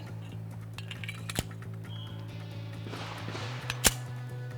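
Two sharp, short reports from a Colt .38 Super pistol fired into plywood, heard against a steady low mechanical hum with faint metallic clinks between them.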